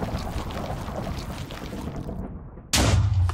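Explosion in a Minecraft stop-motion animation: a sudden loud, broadband blast bursts in near the end after a dense, rumbling stretch, then stays heavy and sustained.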